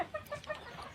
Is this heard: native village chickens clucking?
yes